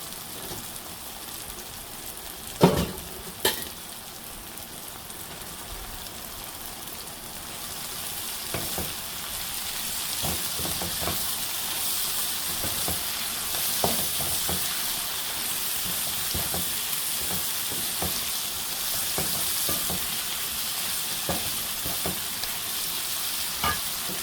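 Fenugreek greens frying in a pan make a steady rain-like sizzle for a long stretch, broken by occasional sharp scrapes and clacks of stirring, close and even.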